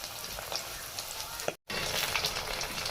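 Food fries in hot oil in a home kitchen, a dense, continuous crackling sizzle that cuts out for a moment near the middle and then resumes at the same level.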